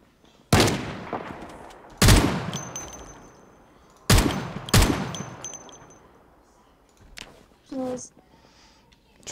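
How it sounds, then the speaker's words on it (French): Four loud shotgun blasts in Project Zomboid, fired in pairs about two seconds apart, each booming and then decaying, while a few quieter thuds follow near the end. "Fusil à pompe, il est efficace hein."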